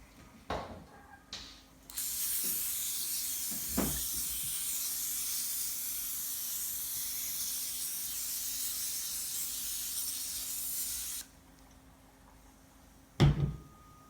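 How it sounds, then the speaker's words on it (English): A steady aerosol spray of cooking oil onto a pan hisses for about nine seconds, framed by a few clicks and clunks before and after. "Now I'm gonna spray the pan with some cooking oil."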